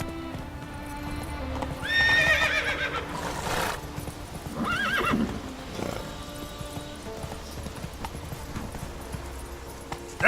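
Roach, the horse in The Witcher 3, gives two sharp whinnying neighs close by over a bed of clip-clopping hooves, and the trotting continues steadily after the calls fade.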